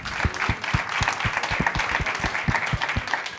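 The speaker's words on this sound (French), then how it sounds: "Applaudissez-vous pour ça." A crowd at a community event with a rap performer claps together in a steady, rhythmic beat, sharp evenly spaced hand claps riding over a softer layer of scattered applause and murmur.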